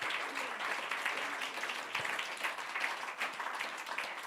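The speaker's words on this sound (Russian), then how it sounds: "Дай Ему большие-большие аплодисменты" A church or festive congregation audience applauds steadily, a dense, even wash of clapping at moderate distance lasting several seconds.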